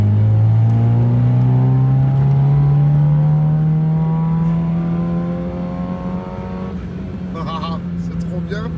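A car engine revs up, its pitch climbing smoothly over several seconds before settling and fading, heard loud and close from the engine bay rather than the tailpipe.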